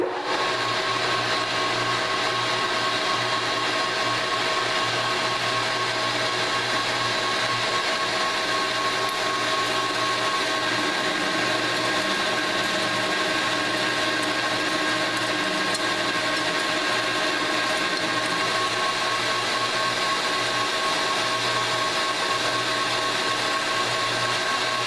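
A metal lathe steadily cutting telescope screw stock for a screw jack in a single pass, a continuous loud machining whir with a low motor hum and even, unbroken texture throughout.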